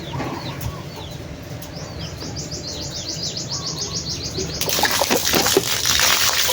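Racing pigeons lift off in a rapid burst of wing flaps, the flutter swelling into a louder, dense clatter of many wings near the end, with faint chirps in the background.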